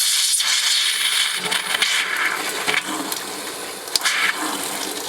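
Pink RV antifreeze gushes through the hot water line of a Geo Pro 19FBS trailer being winterized with a Camco pump converter, a steady close rushing hiss with brief sputters of air, no talking.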